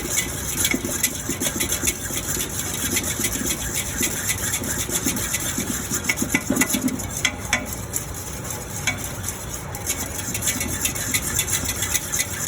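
Pastry cream is stirred in a pot over the heat, a continuous close scraping and swishing with a faint bubbling hiss underneath, steady and unbroken for the whole stretch.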